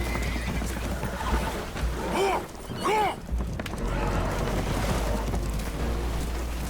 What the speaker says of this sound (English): Horses are spooked, and we're taking on water.